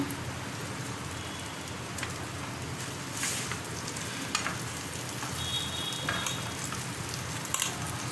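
Cooked, dried rice tipped into a hot pan for dondakaya (ivy gourd) fried rice, giving a steady close sizzle with scattered grain crackles and a few scraping stirs.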